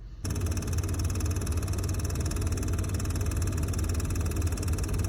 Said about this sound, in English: my engine would start making this knocking noise, and I'll insert a clip of the knocking noise